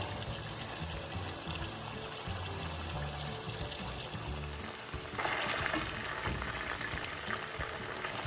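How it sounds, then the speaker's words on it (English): Steady hissing and crackling of pork frying in hot oil, a dense sizzle throughout that grows a little brighter partway through. "Can you hear the meat frying?"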